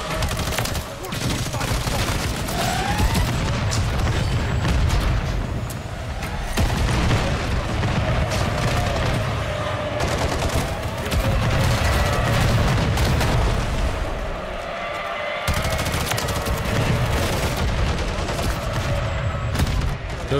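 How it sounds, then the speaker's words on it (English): Bombs and explosions in Modern Warfare 3 multiplayer, a dense, loud barrage of booms and gunfire that keeps going almost without a break, dropping out for a moment near the middle and then resuming. "there's so many bombs getting thrown"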